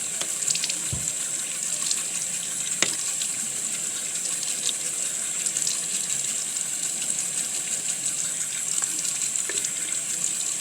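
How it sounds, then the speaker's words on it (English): Warm water runs steadily from a tap while rinsing, a continuous close gushing splash into a sink with a few small knocks, unbroken for the full length. "rinse with warm water."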